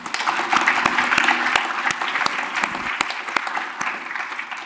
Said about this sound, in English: That's really helpful to kind of get a clap for her.